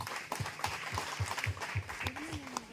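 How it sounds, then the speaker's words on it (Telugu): An audience at a real-estate township gathering claps in welcome. Individual claps come in an uneven rhythm, close and fairly loud, with a voice speaking over them toward the end. "ఒక్కసారి అందరూ కూడా గట్టిగా చప్పట్లతో వాళ్ళకి ఆహ్వానం పలుకుదాం సార్"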